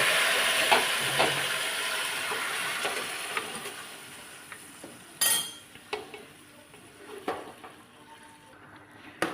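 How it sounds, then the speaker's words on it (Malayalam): Cooked beef stirred into a curry masala with curry leaves, cloves and cardamom in a pan, Kerala-style beef curry; a soft sizzle runs under scattered scraping and clinking strokes of a spoon against the pan, close and moderately quiet, with no talking. "എന്നിട്ട് ഇതിലോട്ട് നമുക്ക് ഈ വേവിച്ച് വെച്ച ഇറച്ചി മിക്സ് ചെയ്യാം"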